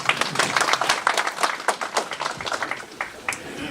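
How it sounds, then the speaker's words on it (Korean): An audience at a county town-hall talk event applauding, a dense burst of many hands clapping that fades toward the end, moderately loud with a faint voice. "박수 한번 보내주십시오"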